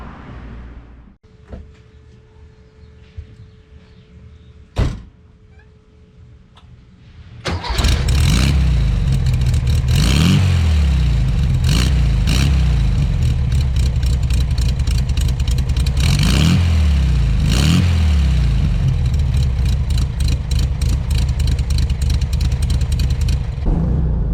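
A car with a four-speed gearbox heard from behind: a few faint clicks, then the engine cranks and fires, settling into a loud, rumbling idle with repeated revs that swell and fall.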